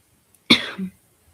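A single short cough, fairly close and clear, against near silence.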